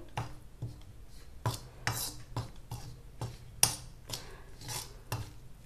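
Hair mask of fenugreek and kalonji seeds, curd, and amla, reetha and shikakai powders being mixed in a bowl, giving a run of irregular scraping clinks of a spoon against the bowl, close and fairly quiet.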